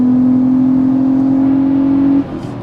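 The naturally aspirated VR6 engine of a Volkswagen Golf holds a loud, steady drone from inside the car, then drops away abruptly near the end, with no one talking.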